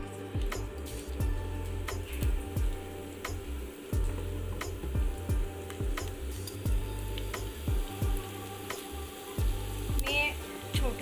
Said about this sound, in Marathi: आता आपण भजी तेलात सोडूया.